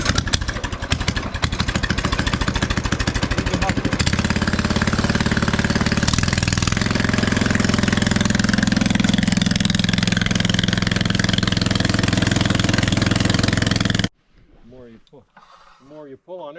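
A quad ATV engine chugs close by, first with a rough, rapid knocking idle, then settling into a steadier, louder running drone before cutting off abruptly, after which a person speaks briefly.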